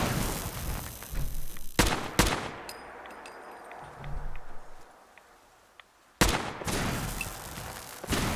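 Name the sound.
Tesla gun firing in video game Fallout 4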